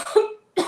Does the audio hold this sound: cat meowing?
no